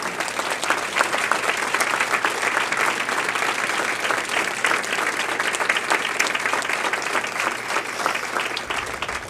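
A large audience applauds steadily and warmly for past honorees standing at an awards night, a dense wash of clapping that holds at full strength for the whole stretch, with no talk over it.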